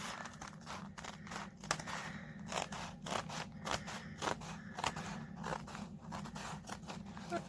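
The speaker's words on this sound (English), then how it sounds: "we're cutting just a little bit, just the very edge off" Scissors snip repeatedly through paper, trimming a thin strip off the edge of an art journal page, a steady run of close, crisp cuts and crinkles over a low background hum.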